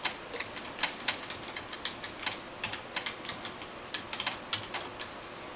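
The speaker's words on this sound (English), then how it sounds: "Then type the password. Retype the password." Quick light clicks of a computer keyboard as a password is typed in, an irregular run of close, crisp keystrokes over a steady background hum, with no voices.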